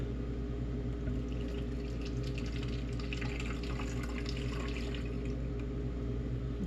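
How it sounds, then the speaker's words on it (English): Tap water runs steadily into a container for alkaline water, a continuous close splashing hiss with faint drips and no talking. "I'm going to fill it up with some tap"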